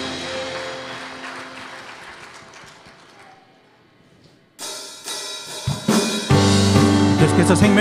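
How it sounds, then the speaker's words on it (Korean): A church congregation at a special night prayer meeting bursts into loud applause partway through, the clapping joining rising worship music and continuing to the end. "주께 영광의 박수를 올립시다."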